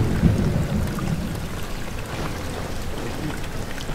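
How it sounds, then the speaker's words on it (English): Steady rain with low rumbling thunder from the video game Amnesia, a constant dense wash of patter and deep roll throughout, with no voices over it. "It's raining."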